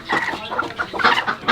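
Farmyard chickens cluck in a lively series of close, repeated bursts, several birds calling over one another at a family picnic outing.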